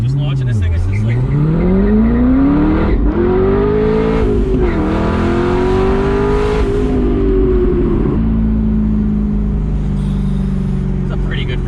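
A manual-transmission sports car, either a 2016 McLaren 650S or a 2013 C6 Corvette 427, launches and accelerates hard up through the gears, its engine loud and close, with a voice speaking over it.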